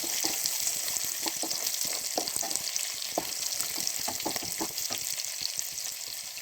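Sliced onion sautéing in a pan as the start of a beef fry, a steady close sizzle with faint stirring scrapes throughout and no voices.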